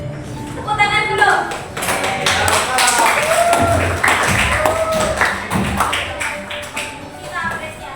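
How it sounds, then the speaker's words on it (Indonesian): Students in a junior high classroom clapping during a guidance lesson, a burst of uneven claps mixed with lively chatter and voices speaking over them, fairly close and loud. "Oh, tepuk tangan dulu."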